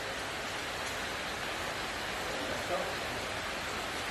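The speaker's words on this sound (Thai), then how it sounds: "โอ้ฝนก็เริ่มลงมาแล้ว" Rain begins falling outdoors as a steady, even hiss of drops on surfaces, constant and fairly loud throughout with no clear breaks.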